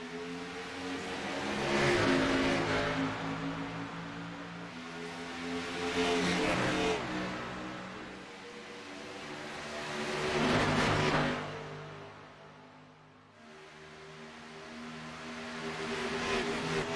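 Race cars at Michigan accelerate away at the green flag, their engines droning and surging in repeated waves as the pack sweeps past. The sound is faint and distant, with no talking.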